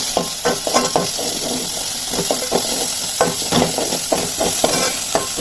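Ginger garlic paste frying in a pan for baby corn egg masala, with a spoon stirring and scraping in quick repeated strokes over a steady close sizzle.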